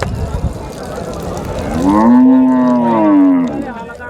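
A cow at the Dabwali cattle market gives one long, loud, close moo that swells and falls over a couple of seconds, after a stretch of rougher background noise.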